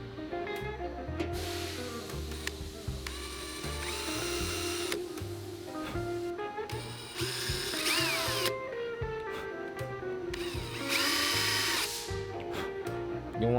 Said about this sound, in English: I can go ahead and drill these out